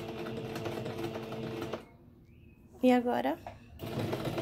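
A sewing machine stitches thin fabric in short bursts around a brief pause, with someone talking over the mechanical whirring near the start.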